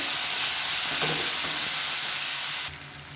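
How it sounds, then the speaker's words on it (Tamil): Chopped vegetables and a large tomato sizzle steadily in a pan, a close, continuous frying hiss with a faint stir in the middle, then the sound quiets at the end. "இப்போ இது எல்லாமே நல்லா வதங்கிட்டு இருக்குது."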